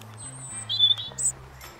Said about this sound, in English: That's one thing I love about Uganda is so many birds all the time.